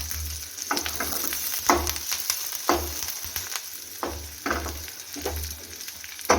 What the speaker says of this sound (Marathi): तर एक माप आपण इथं तेल टाकलेलं आहे तर यामध्ये आपण टाकून घेऊया आलं लसणाचे बारीक केलेले तुकडे त्याचसोबत टाकून घेऊया थोडासा कढीपत्ता